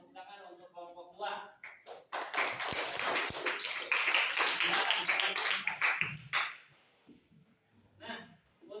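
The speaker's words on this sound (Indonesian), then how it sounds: "terima kasih dan tepuk tangan untuk kelompok 2." A classroom bursts into applause for a student group: dense clapping from many hands builds after a brief spoken line, holds for about four seconds, then fades as talk resumes.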